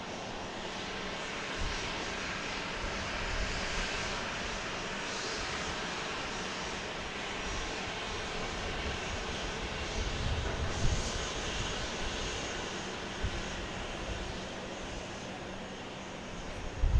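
A Southwest airliner's engines roar steadily as it lands on runway 31 left at Dallas Love Field at night, a broad continuous rumble holding for the whole span, with a brief louder swell near the middle.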